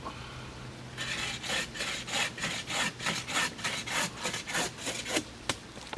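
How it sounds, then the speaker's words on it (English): A WC Knives Master Woodsman knife with a Scandi grind carves into a large piece of wood, giving a run of close, rhythmic scraping and shaving strokes that start after a short quiet moment and go on without any talking. "I was able to get up here in this Scandi grind and really do some good removal on this large wood here."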